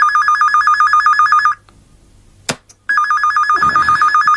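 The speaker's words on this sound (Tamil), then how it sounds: "இந்த நேரத்துல யார் ஃபோன் பண்றாங்க?" A telephone gives a loud electronic trilling ring in a fast warbling pattern. It sounds close, stops for about a second and a half with a brief knock in the gap, then starts again.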